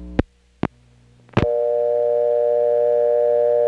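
A 1970s Carolina Telephone payphone line gives three sharp clicks, then a steady, loud dial tone holds to the end.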